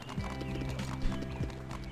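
Galloping horse hooves in the horse-riding video game Wendy, rhythmic clip-clop beats repeating steadily and fairly close over a layer of game music.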